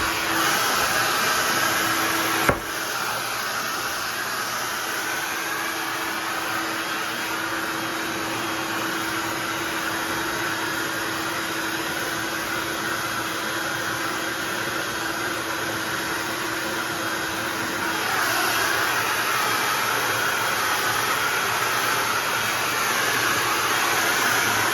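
A hair dryer blowing hair dry, a steady loud whooshing hum running continuously up close with a brief click near the start and a slight lift in intensity toward the end, no talking.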